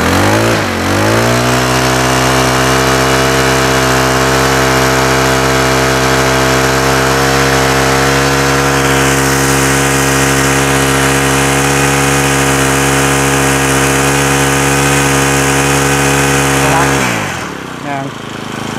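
Honda four-stroke lawn mower engine revving up and held at full throttle for about fifteen seconds, a loud, steady, close droning roar with a constant pitch that drops abruptly as the throttle is released.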